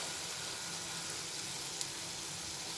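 Kulekhara leaf pakoras fry in hot oil, giving a steady even hiss of close, constant sizzling with one brief tick near the end and no voices.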